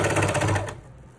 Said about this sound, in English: How amazing is it to have a serger that works?